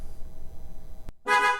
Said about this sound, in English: We should get a honk this time.